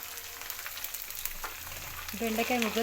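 Ginger and okra pieces frying in a pan, a close, low sizzle with a few scrapes, joined near the end by a brief tonal sound.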